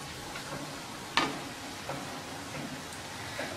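Tomato with ginger, garlic and green chilli sautés in a pan for vegetable biryani, giving a steady, soft sizzle with a few sharp ticks and pops scattered through it.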